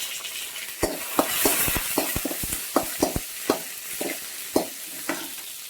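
Crushed garlic frying in hot oil in a home kitchen, a steady soft sizzle punctuated by a dozen or so sharp clicks of a spoon stirring against the pan, with no talk.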